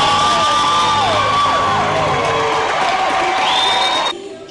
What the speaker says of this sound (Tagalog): Panay ang hiyawan sa tuwing ipinapakita o nababanggit si Jessica.